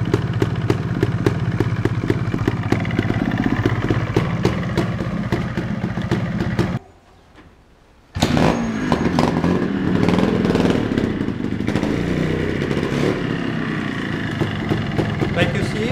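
A Montesa 260 motorcycle engine idles after a cold start at about 20 degrees, a steady buzzing two-stroke putter that cuts out briefly partway through and then resumes just as loud.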